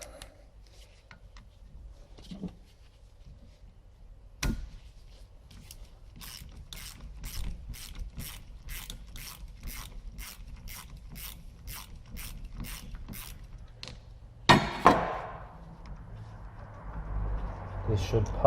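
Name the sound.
removing a bolt on Ford Transit gear selector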